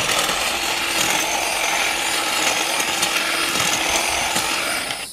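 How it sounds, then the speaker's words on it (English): A hedge trimmer cuts through brush on a ranch, a continuous loud buzzing drone with rough cutting texture that runs steadily for several seconds before easing off at the end, close by and with no talk. "I'm gonna get to work here with this hedge trimmer"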